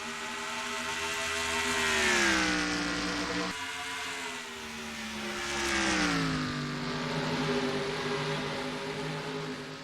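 Race cars in a stock car racing video game accelerate away at Toronto, with a smooth engine tone climbing in pitch in two long swelling sweeps, loud and steady with no talk.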